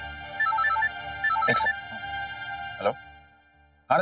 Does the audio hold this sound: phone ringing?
yes